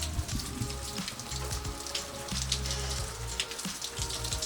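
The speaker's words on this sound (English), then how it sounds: "That's what I gotta put up with. Rain. It always rains." Steady rain pattering down outdoors near a small chicken coop, a dense continuous hiss of drops with low rumbling underneath, moderately loud and unbroken throughout.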